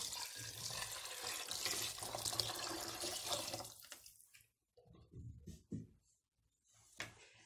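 Water pours steadily into a pot of white beans for about four seconds, then thins to a few splashes and drips, fairly close and moderately loud with no talk.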